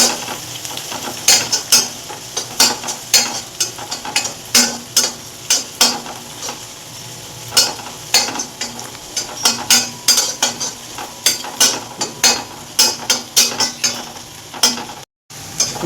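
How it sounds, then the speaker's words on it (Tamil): Ginger and garlic sautéing to golden brown in a pan, heard as a steady background sizzle broken by frequent sharp scrapes and clinks of a stirring spoon, close and fairly loud, with no talk. "நல்லா இதையும் போட்டு நல்லா கோல்டன் ப்ரௌனாக வதக்கிடுவேன்."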